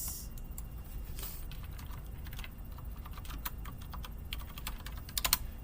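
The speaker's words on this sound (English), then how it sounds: "Let me just type it in," Someone types on a computer keyboard with quiet, irregular key clicks and a few quicker taps near the end, over a low background hum with no talk.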